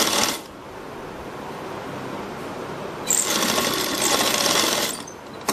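A sewing machine stitches a seam on a salwar kameez in two bursts of rapid, close needle chatter separated by a quieter pause.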